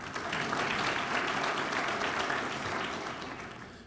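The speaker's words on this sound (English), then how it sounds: "Well, let's give her applause anyway." Applause from an audience at a police memorial day and awards ceremony, a steady dense wash of many hands clapping that holds loud for several seconds and then begins to fade toward the end.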